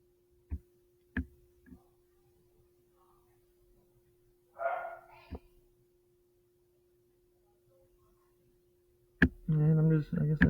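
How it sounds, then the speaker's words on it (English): A feisty puppy barks outside in a few sharp, separate yips spread across a quiet stretch, faint and distant, and a person speaks near the end. "Barking at everybody."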